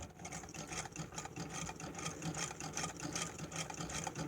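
An Eatonia sewing machine driven by a homemade hand crank runs continuously, giving a steady, close rhythmic mechanical clatter with no talking.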